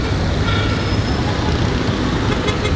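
Dense traffic jam on Shahrah-e-Faisal road in Karachi, a steady loud roar of idling and creeping cars, buses and engines filling the air continuously, with faint voices in the background.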